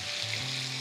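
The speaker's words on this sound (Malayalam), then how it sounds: "തൈര് ഇട്ട ശേഷം കണ്ടിന്യൂസ് ആയിട്ട് ഇളക്കുക" Mutton rogan josh masala with yogurt mixed in, sizzling softly in the pot while being stirred continuously, a brief steady hiss with faint low hum underneath.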